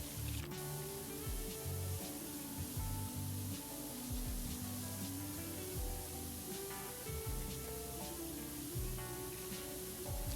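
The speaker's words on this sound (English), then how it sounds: "At least the spray itself makes white noise." A pressure washer in PowerWash Simulator sprays in a steady, even hiss of white noise, continuous and unbroken for the whole stretch under soft background tones.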